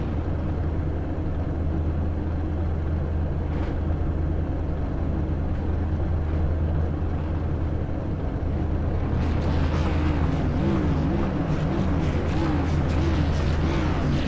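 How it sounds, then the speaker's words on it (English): Modified race cars sit on the field at a speedway before a 125-lap race, their engines idling as a steady low rumble with a few rising revs toward the end, under wind and crowd noise. "As you can hear, they are revving those engines, ready to go racing."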